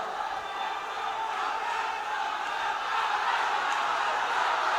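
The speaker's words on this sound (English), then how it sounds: "NSU cheering their homeboy." Home crowd at NSU roaring steadily in support of heavyweight fighter Abrar during a fight bout, a dense, sustained wash of cheering that swells slightly toward the end.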